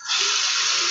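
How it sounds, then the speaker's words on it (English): A tap runs steadily into a sink as hands are washed beneath it, a close, even hiss of water that starts abruptly and continues without pause. "Wash my hands again."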